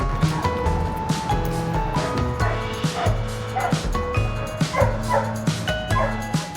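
Pepper barks and yips in rapid bursts at a dog park with another dog nearby, loud and close, the calls mixing sharp barks with whining whimpers.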